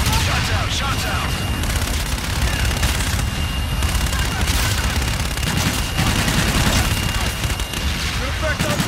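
Sustained gunfire and explosions in the video game Call of Duty: Infinite Warfare, a dense continuous barrage of shots and booms under radio-style talk.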